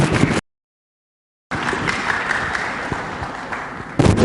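Audience applause at a talk show about Gus Dur, a dense patter of claps filling the room, briefly cut to silence early on, then resuming steadily until the end.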